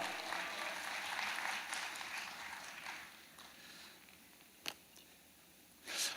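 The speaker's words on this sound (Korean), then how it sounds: "이제 목사님 나오실 때 우리 뜨겁게 박수하시면서 맞이하도록 하겠습니다" A Korean church congregation claps warmly to welcome the pastor, a dense round of applause that fades out midway, followed by a couple of isolated thumps near the end.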